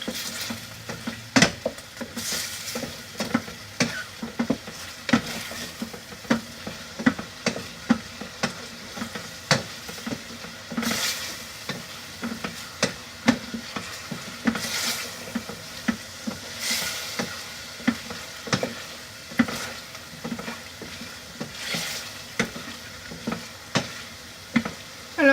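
Sliced turkey escalope sizzling in a pan while being stirred, a steady frying hiss broken by repeated scraping and knocking strokes of the utensil against the pan at an irregular rhythm, close and fairly quiet.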